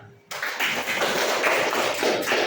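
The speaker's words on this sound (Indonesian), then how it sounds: "Oke, tepuk tangan." Students in an Indonesian classroom math lesson break into a burst of clapping, a dense, fairly loud round of hand claps lasting about two seconds after a brief quiet start.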